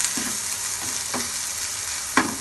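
Ginger and garlic frying in a pan, a continuous close sizzle broken by a few scraping stirs of a spatula, no talking.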